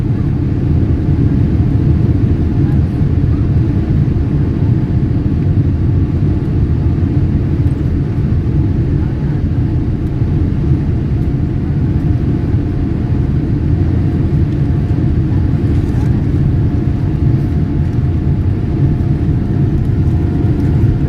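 Large airliner engines roar steadily at takeoff thrust on a flight out of Phoenix, a dense continuous low rumble that holds loud and even throughout with a faint steady tone riding above it.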